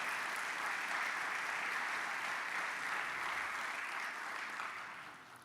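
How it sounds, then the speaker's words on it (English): An audience at an alumni hall of fame dinner applauds in a steady, dense wash of clapping that holds evenly for several seconds before tapering off at the end. "So can we give Summer a round of applause?"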